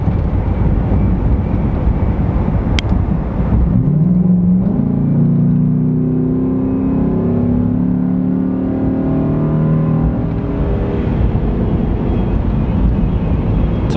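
2018 Chevrolet Silverado 2500 with the 6.0 engine and an S&B intake, a loud close engine note climbing as it revs up past 4,500 RPM, sweeping upward over several seconds before easing off.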